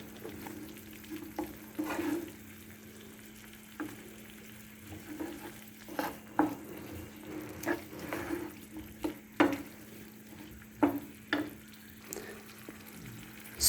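Chopped capsicum stir-frying with babycorn in a pan, a soft steady sizzle under intermittent scraping and stirring knocks from a spatula, close and fairly quiet, with a low constant hum underneath.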